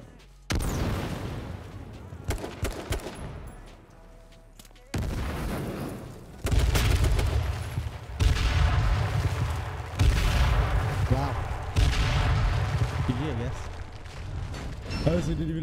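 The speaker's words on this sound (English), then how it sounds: "I didn't even know he threw that many nades." Many grenades going off in a video game, loud booming blasts in bursts with short gaps, with a player's voice talking excitedly over parts of it.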